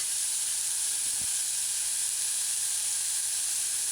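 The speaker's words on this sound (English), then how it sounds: "add the diced tomato. And just allow it to break down and saute." Diced tomato sautés in a pan on a stove at medium-low heat, making a steady, soft sizzling hiss that carries on alone without pause.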